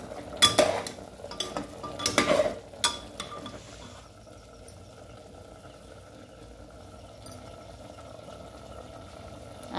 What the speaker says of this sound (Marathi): आता हलवून घेऊ आपण.